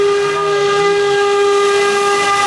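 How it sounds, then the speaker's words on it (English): The steam whistle of a paddlewheel boat on the Chena River in Fairbanks, Alaska, sounds one loud, steady, sustained blast that is close and dominant, with a rich stack of harmonic tones and no talking. "the whistle's going to go off here pretty soon because we've started moving away from the dry dock"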